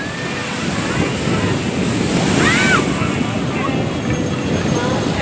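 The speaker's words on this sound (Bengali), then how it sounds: "সমুদ্রের ঢেউটা আস্তে আস্তে এগিয়ে আসছে" Ocean waves roll onto a beach in a continuous broad wash with a swelling surge midway, with wind buffeting the microphone.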